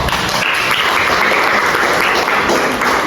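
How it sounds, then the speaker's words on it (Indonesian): Loud, steady applause from a classroom of students clapping for a group that has just presented, dense and continuous with no talk over it. "Tolong diberi tepuk aplaus."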